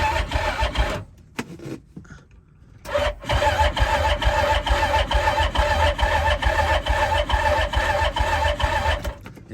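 A Hisun 4-stroke engine cranks sluggishly in deep cold with the choke off, a rhythmic labored churning broken by short pauses, then a long continuous crank that never fires.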